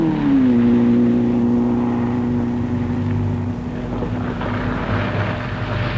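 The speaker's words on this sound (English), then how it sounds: "The Renault of Roland Charrière, one of 12 highly fancied French cars, which all came to grief, screeches on" Rally cars on the 1965 Monte Carlo Rally, including a Renault, pass with a steady engine drone and a sustained tonal whine, loud and continuous throughout with no talking.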